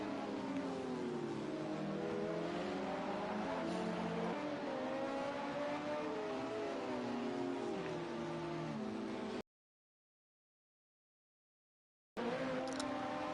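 LMP2 prototype race car engines droning steadily at Circuit of the Americas in a racing sim, with rising and falling engine notes, a sudden silent gap and a short return at the end.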